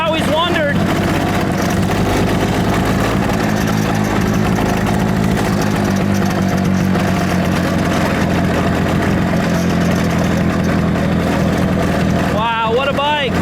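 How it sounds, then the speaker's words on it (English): A twin-cylinder motorcycle engine runs loud and steady throughout at an even, throbbing pace, with people talking over it. "It sounds like both cylinders are hitting at the same time too."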